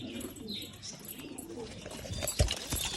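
A pigeon coos near its cage with low rumbling calls, close but fairly quiet, along with a few chirps, a rustle and a brief flutter of wings toward the end.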